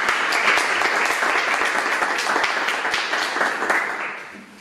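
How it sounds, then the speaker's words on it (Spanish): A crowd applauds steadily with dense, overlapping claps that hold for several seconds, then fade out toward the end. "Un aplauso para ellas, por favor."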